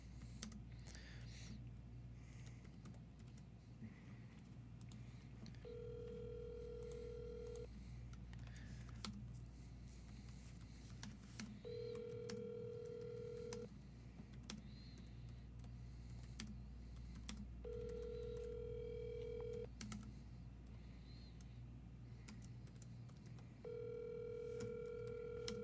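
A telephone call rings out with an evenly spaced series of ringback tones, each followed by a pause, over soft background hum and occasional keyboard typing and clicks.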